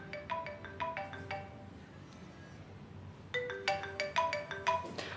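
A telephone ringtone plays two separate bursts of repeated electronic tones, moderately close in a quiet room, with a pause between them before the call is picked up.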